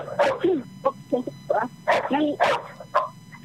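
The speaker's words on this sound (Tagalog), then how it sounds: "ang naririnig ko po yung tahol ng aso" A dog barks and yips several times in quick, uneven bursts nearby, some sounding whiny, with a faint steady hum behind.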